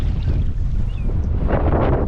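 Steady, loud wind buffeting and rushing past the microphone while sea kayaking solo with a tailwind off the Island of Kerrera, mixed with faint water swash against the kayak and rising slightly toward the end.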